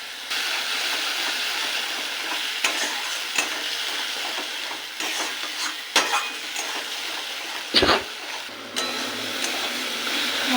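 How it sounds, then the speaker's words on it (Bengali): Spice paste with ground cumin, red chilli, turmeric, coriander and salt sautéed in a pan for a rohu poppy-seed dish, with a steady sizzle and repeated scraping stir strokes and occasional utensil clinks. "মশলাটাকে এবার কষিয়ে নেব। এর মধ্যে দেবো জিরের গুঁড়ো, লঙ্কার গুঁড়ো, হলুদ গুঁড়ো, লবণ আর ধনে গুঁড়ো।"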